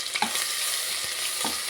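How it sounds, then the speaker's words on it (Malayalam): Ginger garlic paste sizzles in hot oil for a Kerala beef curry, a bright steady hiss with a few quick scraping stirs of a spoon against the pan, close and alone. "ശേഷം ഇഞ്ചി വെളുത്തുള്ളി പേസ്റ്റ് അതിലേക്ക് ഇട്ട് കൊടുക്കാം"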